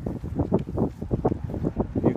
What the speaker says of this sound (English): You can see it's pretty windy out today.